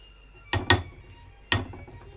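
A spatula stirs a potato dumpling mixture in a bowl for a beef and vegetable stew, giving three sharp clacks against the bowl, two close together and then one more after a pause, with quiet between them.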